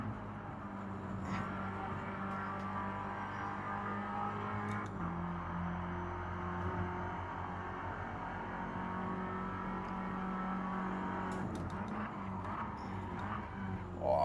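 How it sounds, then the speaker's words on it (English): A race car engine in a sim racing game drones steadily and quietly at a held pitch, with a brief dip partway through and faint clicking overhead, continuing without a break. "This car shifts too fast."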